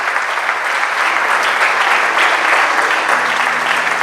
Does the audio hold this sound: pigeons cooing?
no